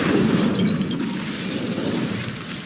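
The Incendio fire spell cast in Hogwarts Legacy lets out a loud burst of whooshing, crackling flame that roars at once and then holds as a dense rushing hiss before easing slightly.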